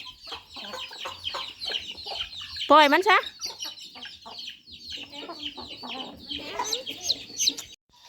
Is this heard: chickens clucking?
yes